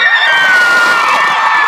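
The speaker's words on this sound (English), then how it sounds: "I need it with the crowd going ape shit crazy" A large crowd cheers wildly and loudly, a dense sustained roar of screams and whoops filling the whole stretch with no speech.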